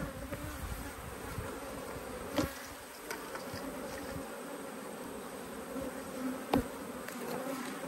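Bees buzz around an open beehive, a steady low drone of many insects with a few louder passes close by, moderately quiet overall.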